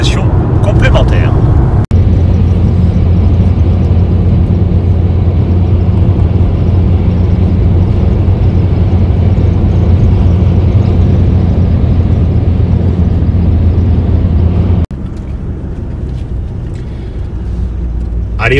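A car driving on the road near Millau, with a steady loud engine and road rumble throughout and a brief drop in level near the end.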